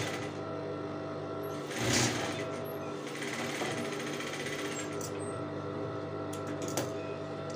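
A sewing machine stitches the seam of women's trousers, a continuous fast mechanical whir with a brief louder burst early on, running alone without talk.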